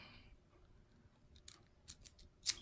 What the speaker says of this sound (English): They're special scissors that cut in shapes